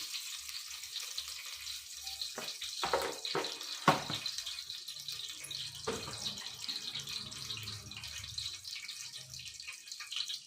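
Mustard seeds dropped into hot oil for a sprouted horse gram saaru sizzle and crackle in the pan, a steady frying hiss with a few sharp pops early on, close and on its own.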